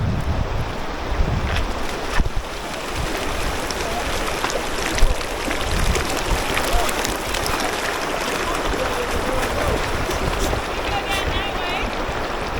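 A river in Silverton, Colorado rushes steadily as a broad, continuous wash of water with wind buffeting the microphone, while a dog named Charlie plays in the water and a person talks and calls out over it.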